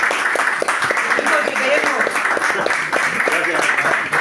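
An audience at a talk on horoscopes claps in a steady, close burst of applause, with a voice briefly speaking over it.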